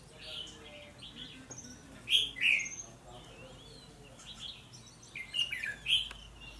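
A caged red-whiskered bulbul sings short, bright whistled phrases in two bursts, separated by a quiet stretch with low background noise.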